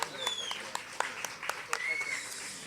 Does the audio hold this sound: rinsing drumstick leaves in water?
no